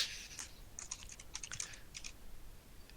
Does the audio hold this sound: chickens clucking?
no